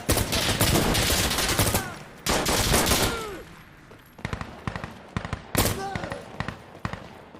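Rapid automatic gunfire rattles in dense bursts in a shooting video game, then breaks into scattered single shots and short volleys, with a voice talking quietly underneath.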